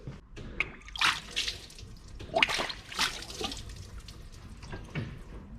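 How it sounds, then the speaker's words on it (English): Coolant gurgling and splashing through the bled lines of a competition car's cooling system as the electric water pump runs, irregular watery bursts, moderately close and fairly quiet. "We know the water pump's got plenty of water at it and it's pumping as soon as you flick it on"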